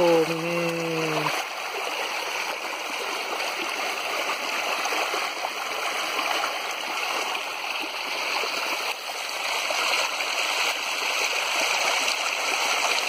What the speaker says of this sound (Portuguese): Olha o som da água.